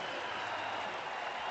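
Baseball crowd at the Giants' ballpark cheering and applauding a Barry Bonds home run, a dense, steady wash of noise that stays full for the whole moment.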